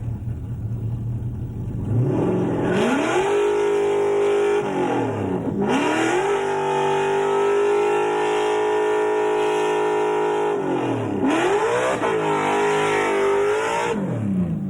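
A supercharged Windsor V8 in a Ford Mustang revs hard up close, climbing to a sustained high-pitched roar, dropping briefly between pulls, with a supercharger whine riding on top and no talk.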